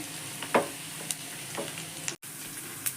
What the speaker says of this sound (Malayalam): ആവശ്യമായ കറിവേപ്പില ഇട്ട് കൊടുക്കുകയാണ്